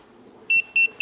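Three sharp electronic beeps from a voltage tester held near a live power cord, each about a tenth of a second, evenly spaced over quiet room tone.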